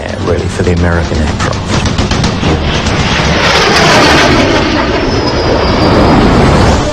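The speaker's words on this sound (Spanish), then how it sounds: "Propulsado por un motor turborreactor de General Electric J-47" An F-86 jet fighter powered by a General Electric J-47 turbojet roars loudly and continuously, building into a dense, rushing blast with a thin high whine rising near the end.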